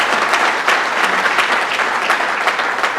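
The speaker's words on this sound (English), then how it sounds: "let's give another round of applause for Mr. Cerf" Conference audience at a panel on nationalism and disinformation breaks into loud, thick applause, a continuous close roar of clapping hands that holds steady throughout.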